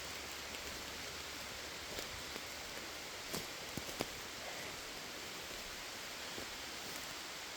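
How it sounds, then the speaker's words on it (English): Rain falls steadily through the leaf canopy of a woodland, a soft, even hiss with a few scattered drops tapping nearby. "It's starting to rain pretty good now,"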